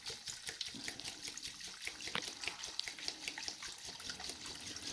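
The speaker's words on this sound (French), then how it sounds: "je remplis avec l'eau du changement d'eau de l'aquarium" Aquarium water poured into a JBL e902 canister filter pump during maintenance, giving a steady close trickle and splash of liquid that runs continuously and evenly at moderate volume.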